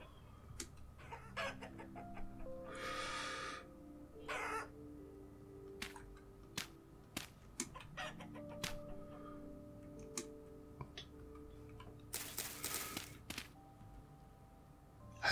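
Chickens cluck and a cockerel crows in a farmyard in the Vintage Story video game, with scattered short clucks, longer crowing calls and clicking game noises across the scene, no talking.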